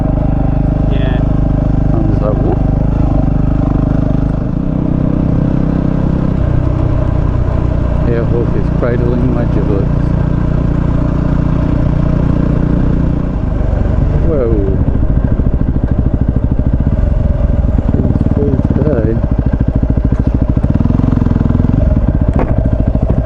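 A Yamaha WR250R and a Kawasaki KLR650 on an overnight adventure ride give a loud, continuous engine drone with wind buffeting and rattling, and muffled voices now and then.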